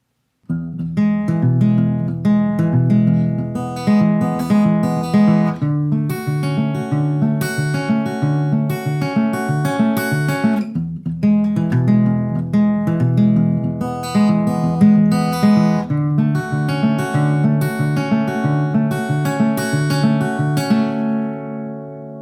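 An acoustic guitar plays a song as a steady strummed chord pattern that repeats through the passage, clear and close with no voices.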